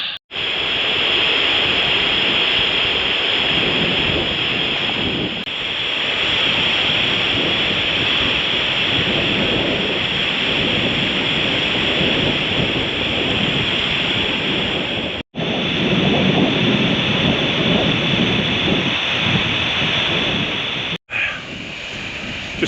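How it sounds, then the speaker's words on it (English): A stunning waterfall roars steadily on a countryside walk, a dense, loud, continuous rush close by with a few brief dropouts and no voices. "absolutely stunning waterfall all the way down here"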